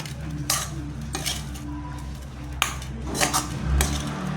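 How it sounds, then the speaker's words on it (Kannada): A metal spoon scrapes and clinks against a pan while puffed rice susla is stirred with coriander, giving several sharp clanks spaced a second or so apart over a soft rustling mix, close and fairly quiet. "ನೀಟಾಗಿ ಮಿಕ್ಸ್ ಮಾಡ್ಕೊಳ್ಳಿ"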